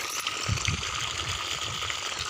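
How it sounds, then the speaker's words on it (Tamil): Water runs steadily through an irrigated farm field planted with green crops, a continuous close rushing and gurgling flow with no talk. "தண்ணி ஓடிட்டு இருக்குது"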